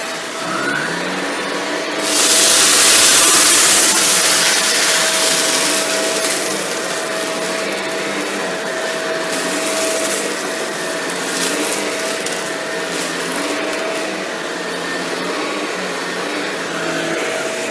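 A Shark NV682 vacuum cleaner runs with a steady, loud motor whine and airflow roar, rattling and crunching as it sucks up beans, lentils, dust and pet hair from the floor, with a brief harsh surge near the start.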